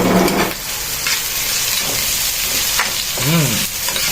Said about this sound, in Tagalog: Susunod ko na yung ating onion and ginger.